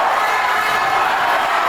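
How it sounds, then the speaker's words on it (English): A loud crowd at a Wales boxing match cheers and roars steadily, a dense wash of voices with whoops rising throughout, close and continuous with no pause. "listen to that crowd"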